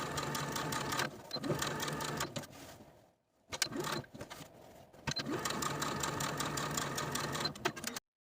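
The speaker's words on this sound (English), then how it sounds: "bottom slit to my sewing machine and edge stitch close to that inner folded edge" Sewing machine edge stitching close to the inner folded edge of a blouse bottom slit, fast mechanical whirring in bursts with brief pauses between runs, close and alone.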